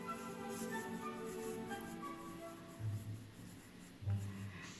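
A soft 6B graphite pencil shades on paper with light, steady scratching strokes, faint and close, with a couple of slightly firmer rubbing passes near the end.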